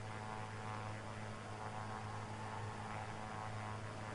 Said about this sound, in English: Yeah, I'm in a plane.